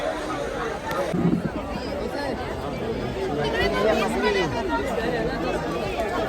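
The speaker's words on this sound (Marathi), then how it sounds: "खूप गर्दी आहे खूप म्हणजे खूप" A large crowd near Kalyan station fills the air with dense, steady chatter and babble, many voices overlapping close by without pause.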